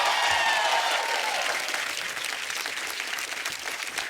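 Loud, sustained audience applause fills a studio comedy talk show as a celebrity guest is welcomed, dense clapping with light crowd noise, steady throughout and easing slightly toward the end.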